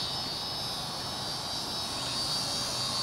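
A Flyzone DH 82 Tiger Moth RC airplane flies high overhead at a flying field, its small motor a faint, steady buzzing whine against outdoor background noise, with no talking.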